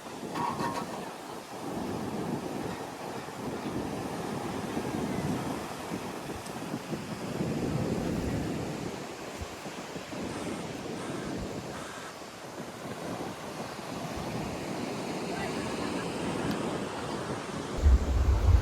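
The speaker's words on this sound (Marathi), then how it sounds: "आणि फायनली आम्ही आता मालवण बीचवर एंटर झालो आहोत." Sea waves wash onto Malvan beach on the Konkan coast in a steady, continuous roar of surf mixed with wind buffeting the microphone, with no talking.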